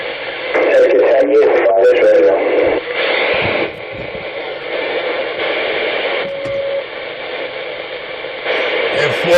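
Garbled, distorted voices come over sideband radio through hissing static, with warbling tones and abrupt shifts in the noise.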